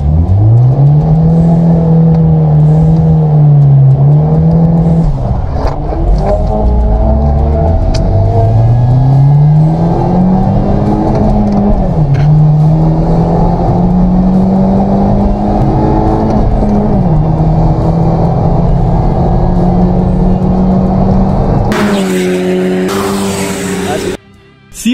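A Hyundai Genesis and an Audi turbo car accelerate hard in a drag race, engines droning loudly and rising in pitch through repeated gear shifts, close and continuous throughout.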